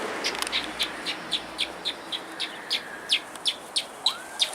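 Outdoor bird calling, likely a budgerigar, as a regular series of short, sharp chirps repeating steadily at moderate distance with no talk over it.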